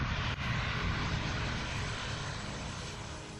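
An Airbus A380 airliner on its first test flight gives a loud, steady engine roar that fills the whole clip and fades slightly toward the end, with no voices.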